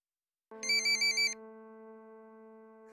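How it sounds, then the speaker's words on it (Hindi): A telephone ringtone sounds in a domestic drama scene: a short burst of four quick, bright electronic trills followed by a sustained chord-like tone, clear and close with no talk. "जाओ देखो किसका फ़ोन है"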